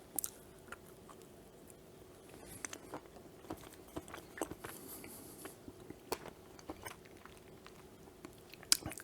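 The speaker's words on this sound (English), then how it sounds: "Nice snap from the tempered chocolate." Chocolate-covered vanilla fudge with tempered chocolate and cocoa nibs being bitten and chewed, faint close crunches and soft chewing clicks scattered irregularly over a quiet background.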